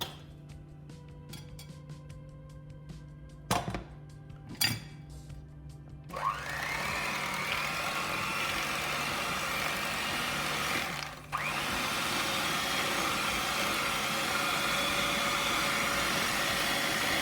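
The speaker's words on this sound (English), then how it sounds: "Let me get the blender first." A kitchen blender making herb and garlic butter starts up after a few clinks and knocks, then whirs steadily and loudly, pausing briefly before roaring on again.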